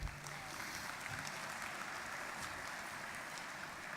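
An audience claps for star students and their teachers at the MEC Power Play 2016 recognition event, a steady, moderately distant wash of applause that continues evenly throughout without pause.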